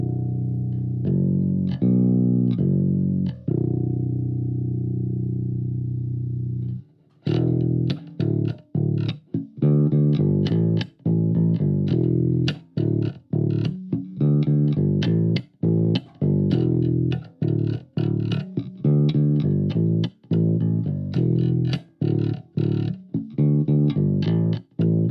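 Bass guitar played through a compact Spark Go amp with distortion: a few sustained, gritty low notes, a brief pause, then a steady run of punchy plucked notes, loud and close.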